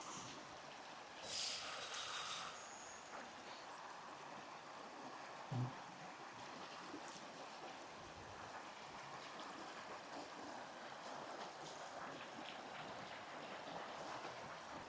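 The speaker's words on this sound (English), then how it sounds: "you could probably hear the water in the background of us talking." A stream in Zion National Park flows as a soft, continuous rush of water heard from nearby, with a couple of brief knocks early on and no talking.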